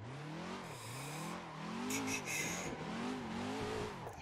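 Simulated 3,000-horsepower semi truck engine in Assetto Corsa, a loud low droning rumble that rises and falls with throttle through several gear changes, with faint tire squeal in the middle.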